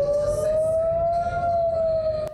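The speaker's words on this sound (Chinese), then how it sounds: "以色列南部港都阿什克隆同样警报声不断响起。" Air raid siren wails over Ashkelon, a southern Israeli port city, during rocket fire: one loud sustained tone rising slightly and holding steady, with faint background noise and a sharp click near the end.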